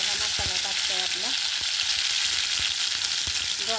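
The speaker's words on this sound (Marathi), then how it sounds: "आता इथं आपण हे तेलामध्ये हा मसाला टाकतोय आपला" Fish curry masala sizzling as it hits hot oil in a pan, a steady close hiss throughout with a few soft clicks and faint stirring, no talk.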